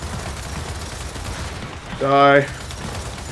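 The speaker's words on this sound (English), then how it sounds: "Who else is shooting me?" Gunfire in the video game Gears of War 4, a few quick shots under a talking player's voice, with a louder, harsher burst near the end.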